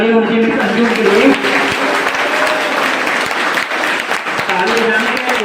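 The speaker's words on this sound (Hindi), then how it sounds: "ताली बजाने का होता है" An audience at a motivational school seminar at an inter college claps loudly and continuously, dense sustained applause with a voice speaking over it at the start and end.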